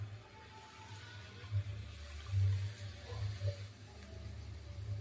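Thickened milk poured into carrot rasmalai, a soft, uneven liquid gurgle and splash close by, swelling in short bursts over a quiet background.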